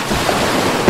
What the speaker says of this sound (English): I like how you can kind of hear the water,